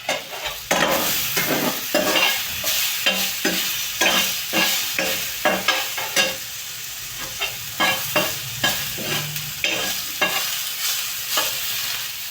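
Food frying in a pan while a spoon stirs and scrapes repeatedly, a steady sizzle broken by regular clacking strokes close by, with no talking.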